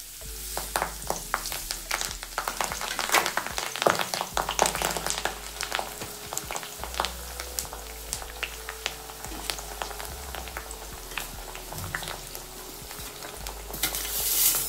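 Herbal hair-oil ingredients fry in hot oil over a low flame, a dense, continuous crackling sizzle with frequent sharp pops and stirring scrapes, close and steady throughout.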